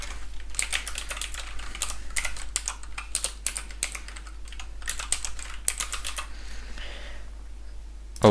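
Typing on a computer keyboard to enter a domain name while joining a Windows 11 client to a domain, in close bursts of rapid clicks separated by brief pauses, with a louder thump at the end.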